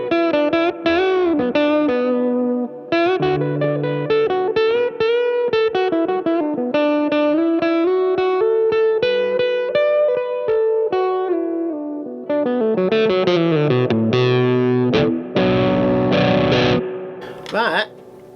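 An FGN Neo Gold Top electric guitar with its P90 bridge pickup selected and the tone knob at zero plays a continuous run of slightly overdriven chords and single notes. The sound is loud, close and dense, with no voices.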